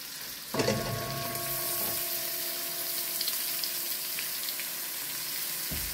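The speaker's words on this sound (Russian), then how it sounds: "Я бросаю сюда лук." Onion hits a hot pan and fries with a steady sizzling hiss that starts abruptly and carries on evenly, close up, with no voices.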